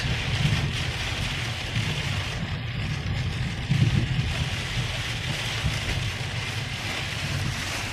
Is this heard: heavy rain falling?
yes